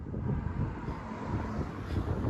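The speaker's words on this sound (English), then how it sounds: "I'm shouting because it's just so windy and I'm walking against the wind." Strong wind buffets the microphone while walking outdoors in Mindelo, São Vicente, a loud, continuous low rumble with gusty fluctuations and no clear voices.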